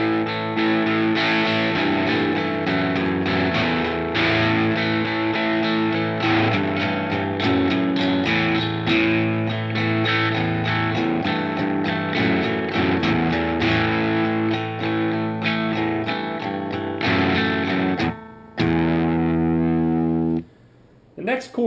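Distorted electric guitar plays the chord progression of a song: crunchy, sustained chords, loud and continuous, with brief pauses near the end.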